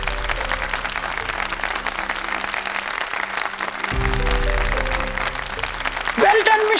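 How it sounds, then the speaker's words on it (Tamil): An audience applauds the winner of a dance competition in a TV drama scene, steady clapping under music and speech that swells slightly partway through. "நிலாஞ்சனாவுக்காக பலத்த கைத்தட்டல் கொடுங்க"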